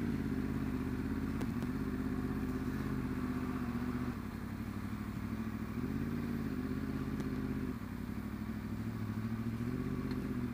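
A Yamaha R1 motorcycle engine runs at a steady idle while being parked, a loud continuous low rumble with slight dips in pitch and no talking.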